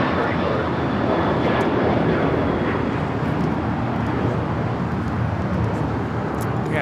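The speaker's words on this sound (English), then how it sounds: "Another heavy heading to the north side of British Airways, flight 283 coming up from London Heathrow. 777-300 ER." A British Airways Boeing 777-300ER heavy jet approaching to land on the north side at LAX gives a loud, steady broadband roar with a faint high whine, as someone talks over it.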